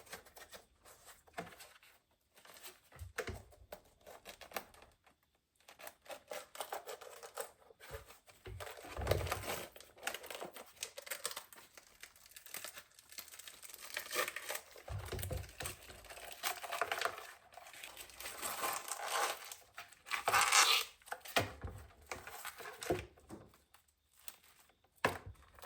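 Dry, papery skin is peeled off a luffa gourd in crackling, crinkly tears and rustles, close up and uneven, with short pauses between pulls and a denser burst of brittle snapping near the end.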